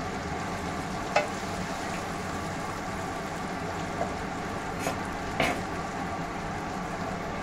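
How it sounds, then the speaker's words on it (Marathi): Ground spice masala of coriander and cumin powder frying in a pan for a quick bitter gourd pickle, giving a steady soft sizzle throughout with a few brief stirring clicks and scrapes, and no talk over it. "आता हा मसाला चांगला परतला ना याच्यामध्ये"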